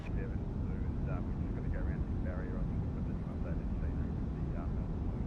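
Airliner engines roar steadily during a go-around climb in Microsoft Flight Simulator 2024, a continuous low drone under radio-style talk throughout.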